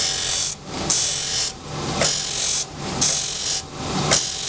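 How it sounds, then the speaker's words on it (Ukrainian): A power grinder rasps against a metal extruder knife blade in repeated passes, each stroke rising and cutting off in a steady rhythm, loud and close. "І шліфуємо."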